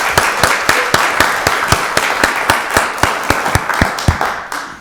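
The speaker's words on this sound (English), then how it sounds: "Let's give them another round of applause." A small group at a county board meeting claps in a round of applause, individual sharp claps clearly separated and fairly close, rhythmic and moderately loud, with no talk heard over them.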